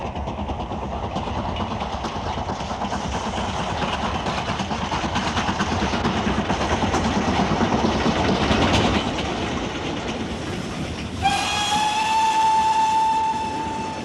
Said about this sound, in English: It'll be a lovely sound coming out of the exhaust.